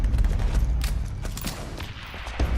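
Gunfire in Metal Gear Solid 4 crackles as a scattered burst of sharp shots and bangs over a low rumble, moderately loud and uneven in rhythm.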